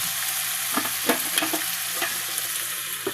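Food frying in a pan is stirred in a home kitchen, with a steady close sizzle under scattered soft scraping knocks of the spoon against the pan.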